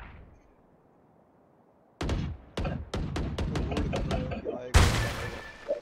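Gunfire in Valorant during a university tournament grand final: after a near-silent pause, a rapid string of about nine sharp shots rings out, followed by a louder, heavier blast.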